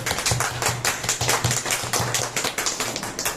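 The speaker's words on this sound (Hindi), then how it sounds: "तालियों से।" An audience claps in steady rhythmic unison, loud and close, the regular beats continuing throughout with no talk over them.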